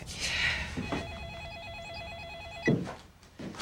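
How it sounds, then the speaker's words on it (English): A telephone rings with a steady electronic trill that repeats for a few seconds, fairly clear against a quiet indoor room. "Hey, you gonna answer the phone?"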